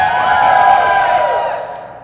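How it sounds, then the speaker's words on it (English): An audience at an open-stage repertory script reading cheers loudly to vote for Hamlet, a burst of shouts and whoops that swells and then fades away within about two seconds. "let's do it by cheer to be democratic about such things"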